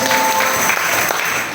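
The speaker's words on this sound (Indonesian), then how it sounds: "Berikan tepuk tangan buat Tuhan Yesus." A church congregation claps for Jesus during a worship service, a loud, dense wash of clapping heard up close and sustained throughout.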